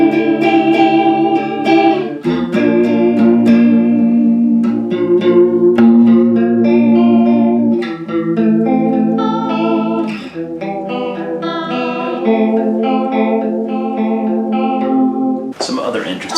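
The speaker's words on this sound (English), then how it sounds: "Everything all the way up gets us back to that Leslie cabinet sound." Guitar run through a Boss CE-2 chorus pedal with every control turned all the way up for a swirling Leslie-cabinet-like tone, playing a steady stream of strummed chords and picked notes, loud and close for about sixteen seconds.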